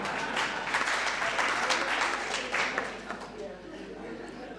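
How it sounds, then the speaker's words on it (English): A crowd at a building opening ceremony applauds steadily, a dense wash of clapping that holds for several seconds and then tapers slightly. "Can you clap for him?"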